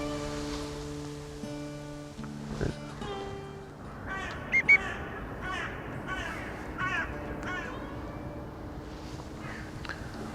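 Crows caw in short bursts of harsh calls over a steady background hum, with a couple of louder caws nearby.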